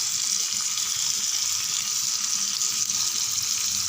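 Murungakkai (drumstick vegetable) pieces sautéing in a pan for pachadi give a steady, close sizzling hiss with faint stirring, running evenly throughout with no voices.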